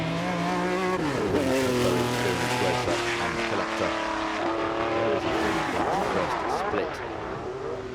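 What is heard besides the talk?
Ferrari 712 Can-Am race car driving up Goodwood hill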